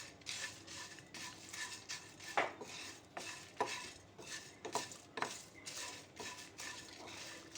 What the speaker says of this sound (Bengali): আবার আমি এইগুলোকে একসঙ্গে ভালো করে ভেজে নেব